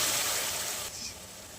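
Hot water is poured into a frying coconut masala for a spicy eggplant curry, a brief hissing gush that cuts off after about a second and leaves a faint simmer.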